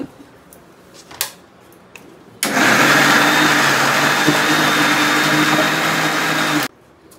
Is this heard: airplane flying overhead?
no